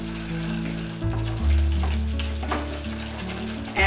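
Tomato sweet chutney frying in a pan with coriander, chili and cumin powders, a steady loud sizzle broken by scraping stirs and clanks of the spoon, close up and without speech.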